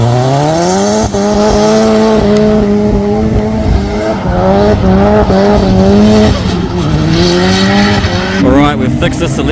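A drift car's engine revs hard and climbs through repeated gear pulls while its tyres squeal and skid, loud and close throughout, with no pauses.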